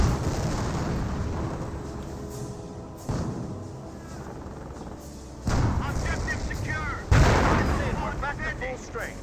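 Mortar and artillery fire in the World War II strategy game Company of Heroes, a dense series of loud, booming blasts and rumbling impacts, with sharp new explosions landing every few seconds over a continuous battle din.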